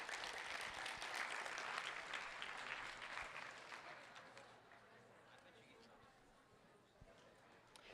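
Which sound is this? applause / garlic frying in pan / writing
applause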